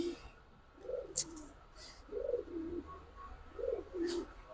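Giribaz pigeons coo close by in repeated soft, throaty bursts, with a few brief higher chirps in between.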